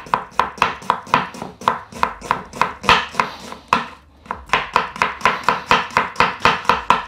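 A sharp knife finely slices onions on a cutting board in a fast, even rhythm of crisp taps, close and loud, with one brief pause midway.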